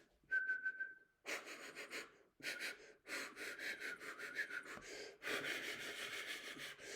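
A short steady whistled tone, followed by several bursts of breathy, airy blowing with brief pauses between them, fairly close and loud.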